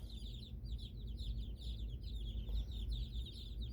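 Week-old chicks peep and chirp steadily in a warm brooder room under heat lamps, a busy overlapping chorus of high calls over a low background hum.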